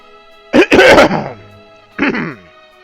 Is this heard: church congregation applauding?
no